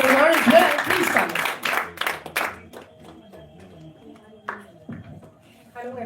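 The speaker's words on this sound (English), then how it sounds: "Big round of applause for her as well." An audience at a business networking meeting bursts into applause for about two and a half seconds, dense and fairly loud, then fades out as a speaker starts talking.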